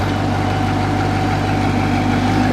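Corvette convertible engine idling after a cold start, a loud steady low rumble with an even hum that stays constant throughout, close by and alone.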